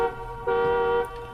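A single car horn honks sharply for about half a second, close and loud, between softer tonal background sounds.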